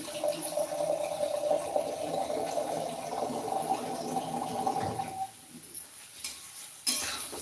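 Steady watery sizzle and hiss as a little water is sprinkled into a pan of eggplant bharit on low gas, with light clinks of utensils, continuous for several seconds before quieting near the end.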